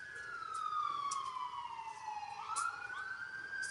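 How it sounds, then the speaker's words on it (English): A passing ambulance siren sweeps slowly downward and then rises again, carrying a steady wailing tone that sounds somewhat distant and faint, with a few sharp higher accents along the way. "Sounds like we got another ambulance coming."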